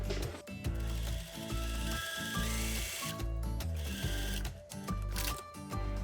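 A sewing machine stitches bias tape right sides together onto a loungewear bodice with a 1 cm seam allowance, producing a loud, close, rapid mechanical whir in rhythmic runs broken by brief pauses.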